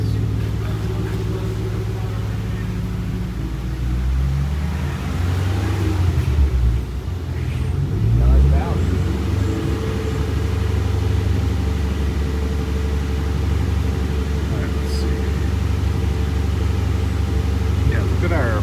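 A Roush 427R Mustang engine that is running rich holds a steady low rumble near 1500 RPM, swelling briefly midway, while people talk over it.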